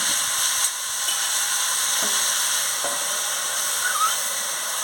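Jackfruit seed curry sizzles hard in the pan after water is added and the pot is covered, a loud steady hiss with a few faint clinks and no speech.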